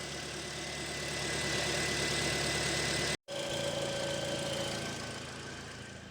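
A 2010 Toyota Corolla 1.8 engine idles steadily at a moderate, even level after a drive belt replacement, broken only by a brief cut near the middle.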